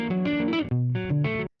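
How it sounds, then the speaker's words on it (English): Distorted, effects-heavy synth notes from a copy-pasted section of a music mix stop abruptly after about a second and a half, leaving sudden silence with no reverb tail. "because the reverb cuts out"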